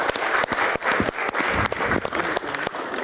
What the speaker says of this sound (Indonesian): tepuk tangan untuk Habib Djafar.